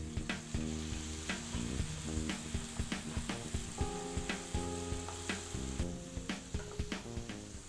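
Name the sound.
garlic paste stir-frying for Schezwan fried rice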